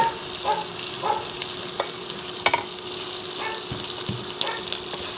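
Gentle stirring and scraping of chilli powder and spices in a pan for fish curry over a soft frying sizzle, with scattered clicks and taps of a utensil against metal.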